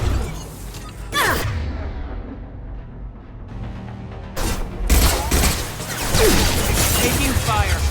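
Gunfire in the video game Mass Effect 2: bursts of shots and booms, loud and close, with a quieter lull in the middle before heavy firing resumes, with game voices talking over parts of it.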